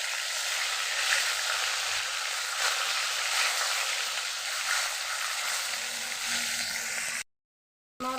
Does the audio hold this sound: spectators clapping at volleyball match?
no